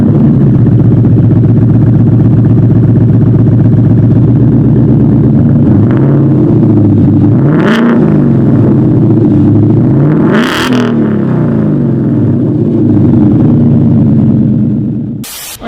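Loud, close exhaust note from a 2019 Ford Mustang GT with an AWE Track cat-back system, droning steadily at highway cruise with a couple of surges in revs and rushing wind noise, no talk.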